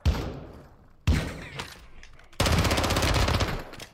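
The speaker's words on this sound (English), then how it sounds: "You are taking effective fire" Gunfire in Call of Duty MW2 DMZ: two separate heavy shots with echoing tails, then a sustained rapid automatic burst, loud and close.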